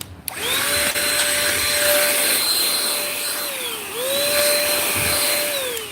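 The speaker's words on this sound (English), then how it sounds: "It's a little vacuum cleaner and a blower." A small Menards vacuum cleaner and blower runs steadily and loudly, with a high motor whine that sags and recovers twice as the load shifts. No one speaks.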